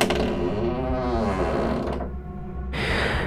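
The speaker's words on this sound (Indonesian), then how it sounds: "lagi-lagi terdengar suara berkeriet panjang" A wardrobe door gives a long, drawn-out creak in a horror story, with a continuous groaning wooden strain lasting several seconds before a harsher scrape at the end.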